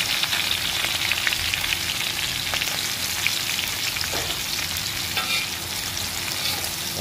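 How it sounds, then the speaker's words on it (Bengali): Onion and chili frying in spiced masala in a pan, cooking for a hilsa fish and eggplant dish, produce a loud, dense, unbroken sizzle with occasional stirring scrapes, close up and without talk. "আমরা এখন পেঁয়াজ মরিচ সব কিছু দিয়ে মশলাটা ভালো করে নাড়িয়ে নেব।"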